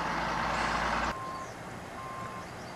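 A truck at a water treatment plant reversing during a flood, its engine rumble cutting off abruptly before two distinct backup beeps sound at moderate distance outdoors.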